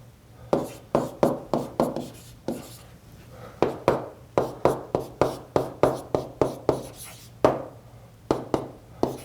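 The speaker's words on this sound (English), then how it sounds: "Let me write that down as well." Someone writes by hand, likely with a marker on a board, making a quick series of crisp taps and short strokes in uneven bursts, close and clear, with no talking.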